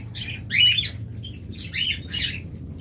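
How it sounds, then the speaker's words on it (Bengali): Pet lovebirds for sale give several sharp, shrill squawking chirps in short bursts, fairly close, over a low background hum. "আপনাদের মাঝে আরও বেশ কিছু ভালো ভালো পাখি নিয়ে আসলাম"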